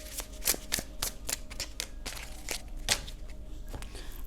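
A Mystical Wisdom tarot oracle deck is shuffled by hand close up, giving a string of crisp card slaps and riffles at an uneven rhythm, alone without speech.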